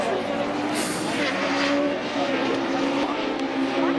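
Rallycross race car engines roar continuously at high revs, above 8000 rpm, loud and steady throughout, with a commentator's voice over them, at a French championship race in Dreux.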